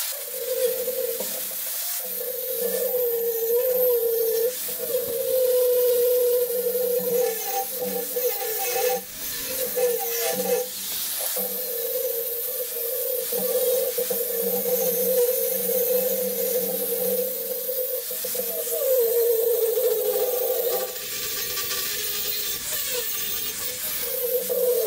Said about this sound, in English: do a little grinding here.